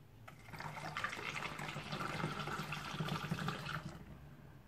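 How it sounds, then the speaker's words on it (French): Lukewarm water pours steadily into a bottle holding black soap, a soft continuous gurgling splash that fills most of the stretch before stopping, fairly quiet with no talking. "Je remets encore de l'eau dedans, parce que comme l'eau, j'en profite qu'elle soit tiède pour faire dissoudre le reste."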